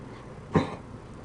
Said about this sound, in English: My poor Jack is coughing. That's my dog